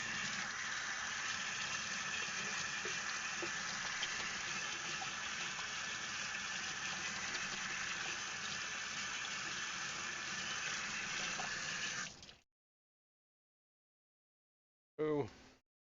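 Water runs steadily from a tap, a continuous close rushing flow that lasts about twelve seconds and then cuts off abruptly, followed by silence and a brief burst of voice near the end.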